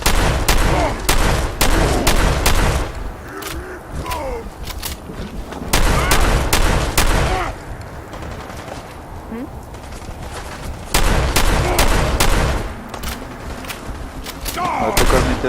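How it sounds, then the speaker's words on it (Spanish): Shotgun fire in the video game Fallout 4 comes as loud, sharp reports in rapid clusters, separated by quieter stretches of background game noise. "Escopeta."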